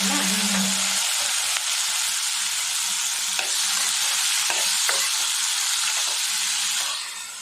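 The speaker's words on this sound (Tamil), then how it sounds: "தக்காளி பழத்தை வதக்கி வைக்கிறோம்" Onions and tomatoes sautéing in a pan for a spicy mustard-tomato chutney give a loud, steady sizzle and hiss that runs unbroken for the whole stretch, with faint stirring scrapes now and then and a slight fade at the end.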